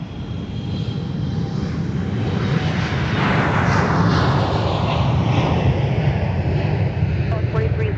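An airplane lands on runway 35 at MSP airport, its engine roar swelling loud and broad before holding steady, with no talk over it.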